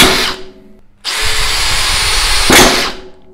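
A Makita or Metabo cordless drill drives a screw into wood at clutch setting 6, with a brief whir, a pause, then a sustained loud motor run ending in a sharp clutch ratcheting burst before it stops.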